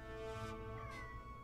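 Pet cat giving a couple of faint, short meows over a steady hum of background noise, with no one speaking.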